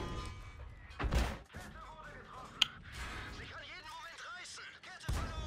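A heavy artillery shell strikes with a deep, dull thunk in a World of Tanks battle, followed by a sharp crack and a later booming impact amid low rumbling game noise.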